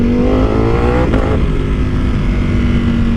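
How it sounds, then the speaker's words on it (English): A loud, close sport motorcycle engine with an aftermarket exhaust roars steadily, with a quick sharp break midway as the quickshifter snaps it through a gear and it keeps pulling. "I love the way that quick shift sounds when you get into it and just snap it."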